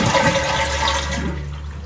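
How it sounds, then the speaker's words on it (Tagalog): A household toilet flushing with its water supply switched off: a loud, close rushing swirl of water that continues steadily and eases slightly toward the end. "Para pag finalash natin siya"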